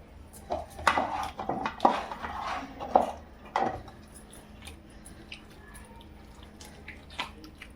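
Sabudana chakli dough is worked by hand in a bowl. Irregular soft squishes and bumps against the bowl come in busy bursts early on, then thin out to occasional quieter handling sounds.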